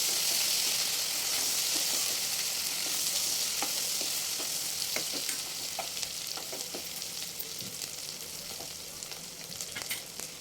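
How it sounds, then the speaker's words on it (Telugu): Ginger garlic paste fries in a pan for a cabbage and chana dal curry, a steady close hiss and sizzle that slowly softens, dotted with light scrapes and taps of stirring, and no one talks. "ఒక టీ స్పూను అల్లం వెల్లిపాయ పేస్ట్ యాడ్ చేసుకున్నామండి అది పచ్చి వాసన పోయే వరకు వేపుకుందాం"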